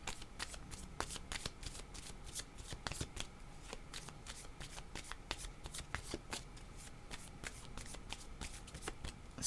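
Tarot cards being shuffled continuously at close range, a steady stream of crisp riffling flicks and soft slaps with no talking.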